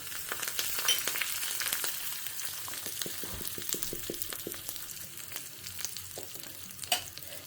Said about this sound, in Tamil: அடுப்பில் தேங்காய் எண்ணெய் வச்சுட்டுருக்கேன். கடுகு, ஜீரகம்,